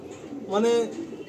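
A pigeon coos once at close range in a loft in Sonarpur, a brief rolling call rising out of low background noise and fading after about half a second.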